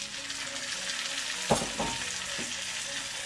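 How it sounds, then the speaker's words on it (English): Onions and chopped pepper fry in oil in a pan, a steady close sizzle with a brief clatter of stirring midway, no talking. "Let that fry for like 5 minutes, and I'm just gonna add my chopped pepper."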